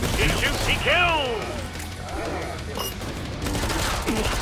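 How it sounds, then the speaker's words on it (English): Gunfire in Killing Floor 2, fairly faint in a busy mix with other game sounds and a voice speaking over it, with bursts of shots scattered through the clip. "He shoots, he kills!"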